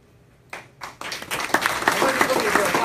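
Audience at a charity golf outing breaks into clapping: a couple of isolated claps first, then applause quickly swelling into a full, dense round from many people nearby, growing louder toward the end.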